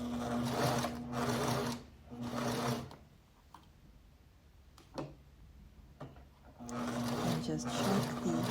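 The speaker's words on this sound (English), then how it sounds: "you're going to be sewing it on the bottom to keep it together" Sewing machine stitching a Tahitian headdress in bursts, running steadily for a couple of seconds, pausing through quieter stretches with small handling clicks, then starting up again near the end; close and fairly loud.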